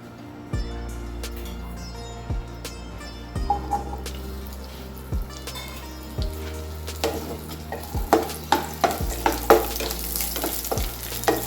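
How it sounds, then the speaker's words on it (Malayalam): Chopped okra frying in coconut oil, a steady sizzle broken by sharp clacks and scrapes of a spoon stirring against the pan, growing busier and louder near the end. "കുറച്ച് വെളിച്ചെണ്ണ ഒഴിച്ചിട്ട് നമുക്ക് വെണ്ടയ്ക്ക നുറുക്കി ഇതിലേക്ക് ഇട്ട് കൊടുക്കാം"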